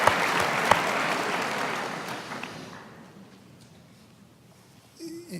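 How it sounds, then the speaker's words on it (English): Audience applause fills a business interview hall, a dense steady clapping that fades gradually over a few seconds into near quiet, with a brief faint voice near the end. "I think that deserves an applause."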